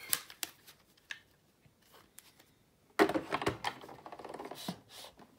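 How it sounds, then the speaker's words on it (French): A paper die-cutting machine cranks a card through with sharp clicks and ratcheting, first sparse and faint, then a denser, louder run of mechanical clatter. "ensuite le mettre dans la machine de découpe."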